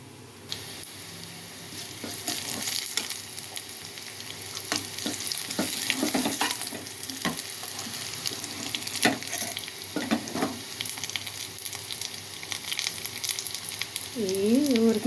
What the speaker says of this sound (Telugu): ఇది పక్కన పెట్టేసుకొని ఇప్పుడు తాలింపు చూద్దాం